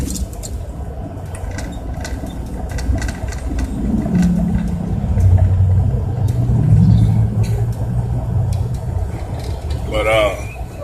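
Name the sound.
antique cars driving past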